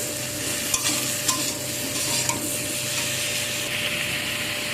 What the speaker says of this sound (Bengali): দিয়ে সব কিছুকে আবার একটু ভালো করে নাড়াচাড়া করে নেব।